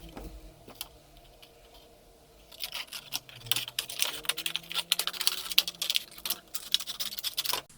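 A base for an autumn table centrepiece made from recycled materials is trimmed down, first with a few sparse clicks, then a dense run of quick, crisp snips and scratchy cuts, close and fairly quiet, with no voices.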